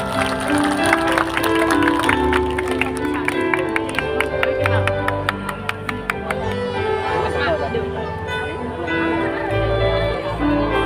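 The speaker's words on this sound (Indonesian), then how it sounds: "Tepuk tangan untuk Mas Dava." Applause and cheering from an outdoor crowd at an evening religious gathering in a village field in Madiun, a dense wash of clapping sustained throughout with music playing underneath.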